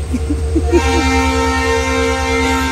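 A train moving at a station in Purulia, heard up close as a loud, steady low rumble with rhythmic throbbing, joined partway through by sustained humming motor tones.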